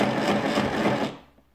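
A sewing machine stitching fabric while making makeup-removing wipes, a steady loud mechanical whir with a fast rhythmic chatter that runs close for over a second, then winds down and stops.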